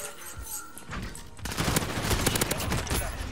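Gunfire in the game Modern Warfare, a quieter opening that breaks into a dense rapid burst of shots halfway through and stays loud to the end, with faint talk underneath.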